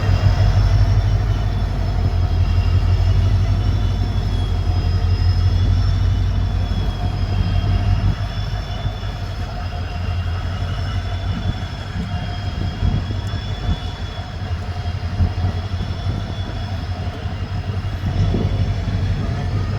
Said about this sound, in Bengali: আর সামনে দেখুন ডিজেল ইএমডি লোকোমোটিভ মালগাড়িকে টেনে নিয়ে যাচ্ছে।